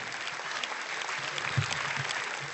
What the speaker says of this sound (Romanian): Aplauze pentru Cupa Mică și Elena Osoianu!